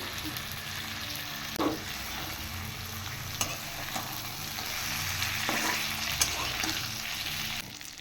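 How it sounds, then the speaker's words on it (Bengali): Fried tengra fish and eggplant sizzling in a spiced curry, a continuous close frying hiss with stirring scrapes and a few sharp utensil knocks, no voices. "তারপর আমি ভেজে রাখা ট্যাংরা মাছগুলো দিয়ে দিলাম এবার আমি ভেজে রাখা বেগুনগুলো সাথে সাথে দিয়ে দেবো"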